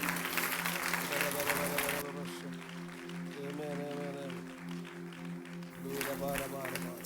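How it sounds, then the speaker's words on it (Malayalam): A church congregation breaks into loud applause, clapping for about two seconds, then a voice speaks over quieter sound before a second burst of clapping near the end. "നല്ല സമയം നോക്കി കൈയടിക്കുക."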